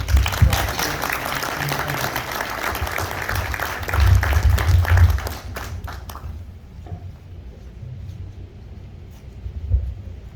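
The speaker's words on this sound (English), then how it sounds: "Big round of applause for Representative." Audience applause at a gathering for a representative, thick clapping with low rumbling underneath for about six seconds, then cutting off abruptly to a quieter room with faint scattered noise and a brief bump near the end.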